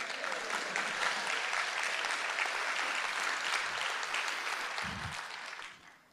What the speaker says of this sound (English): I love it when you clap for the oaks